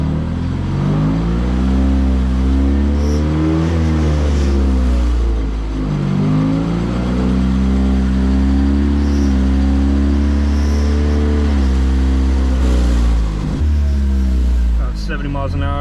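A 2017 Lexus IS200t raised on jack stands after an 8-speed transmission replacement, its engine droning and rising in long revving sweeps as the wheels spin freely, loud and steady, with a brief dip and surge near the end.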